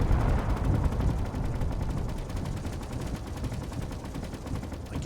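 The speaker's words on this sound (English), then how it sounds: "Ooh, big explosions." Big explosions in the space video game Space Engineers, a dense rapid series of booming blasts and crackling impacts that rumble on continuously, loud and close, easing slightly toward the end.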